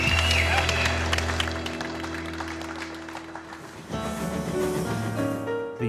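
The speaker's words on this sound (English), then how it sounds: "Big round of applause" Studio audience clapping for a model railway team, moderately loud, mixed with background music and sustained tones that dip briefly before swelling again.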